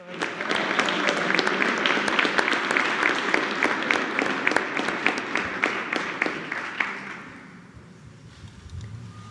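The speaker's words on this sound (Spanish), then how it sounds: "Un aplauso a todos los gobernadores." Applause breaks out for the state governors at a Mexican presidential morning press conference. The steady clapping has sharp individual claps mixed in, then thins and fades out over the last couple of seconds.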